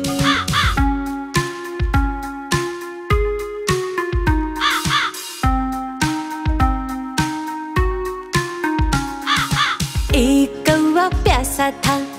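Animated crow in a Hindi children's rhyme, giving a string of loud, sharp caws in uneven bursts, close up and sung over bright music.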